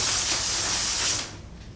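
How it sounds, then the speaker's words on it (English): Cooking spray hisses from a can onto a baking pan for cinnamon rolls, one steady loud burst lasting about a second before cutting off into quiet room sound. "I'm going to lightly grease the pan, very lightly. Just with a cooking spray."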